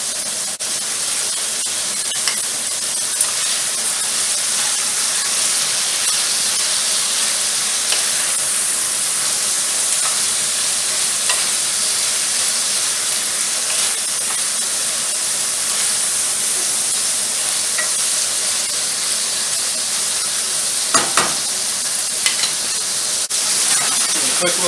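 Asparagus sizzling in a hot pan, a steady loud frying hiss that runs unbroken throughout, with a brief stir or toss near the end.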